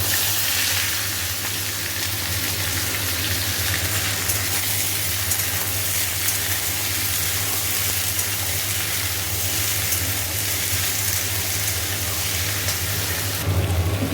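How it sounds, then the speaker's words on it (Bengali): Potatoes frying in oil seasoned with nigella seeds, a loud continuous sizzle and crackle close by that holds steady throughout, with no voices. "একটু লাল লাল করে ভাজা হচ্ছে"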